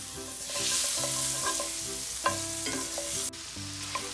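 Sausages sautéing in a hot pan after being charred, with a steady sizzle broken by frequent stirring scrapes and clinks, close and fairly loud throughout.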